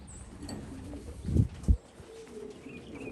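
Homing pigeons returning to their loft after a training toss coo softly in the open air, with a couple of low thumps or wing flaps standing out against faint background chirps.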